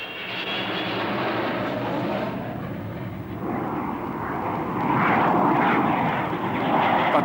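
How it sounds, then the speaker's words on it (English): Jet engines of a Vulcan bomber on approach, then at full power, a loud, broad, sustained roar that swells and grows brighter toward the end, with no talk. "By piling on full power, it managed to climb clear"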